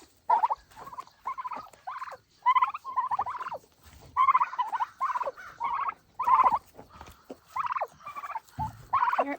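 Young thirteen-week-old turkeys gobble and chirp repeatedly at close range, a steady run of short, bright calls with brief gaps, heard alone without talking.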